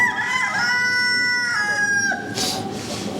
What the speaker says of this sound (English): Look at this rooster, beautiful rooster.